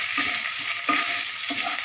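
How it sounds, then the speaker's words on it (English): Ginger paste frying in a pan: a steady bright sizzle with three soft scraping stirs at regular intervals. "Next, ginger paste. It's fried 1 minute."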